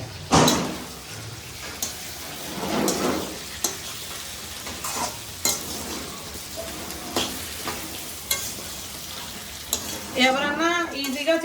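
Chicken feet curry stirred in a pot after turmeric goes in, a spoon scraping and swishing in bursts over a soft sizzle, with a short clatter near the end.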